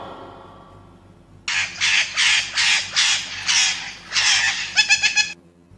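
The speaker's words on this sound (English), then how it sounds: "P is for parrot." A parrot squawking loudly and close in a rapid series of about eight harsh, raspy calls, ending with a few quicker clipped squawks, with no talk.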